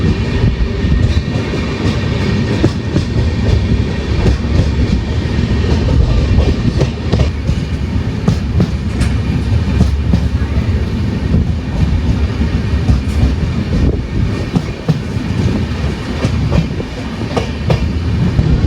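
A Mangala Lakshadweep Express sleeper coach runs steadily on rails, with a continuous loud rumble and a rhythmic clickety-clack of wheels over rail joints throughout.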